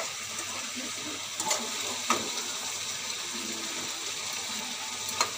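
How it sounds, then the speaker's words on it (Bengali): Mutton curry cooking in a pan gives a soft, continuous sizzle and bubbling with a few faint clinks, close and fairly quiet, with no talking. "দেখো বন্ধুরা আমার মাটন রান্না হচ্ছে।"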